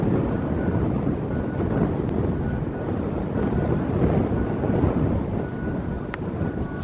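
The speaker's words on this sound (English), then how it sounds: "the wind's coming up pretty good over here" Strong wind buffets the microphone outdoors beside a building with fenced practice fields, a steady loud roar and rumble with no pauses and no voices.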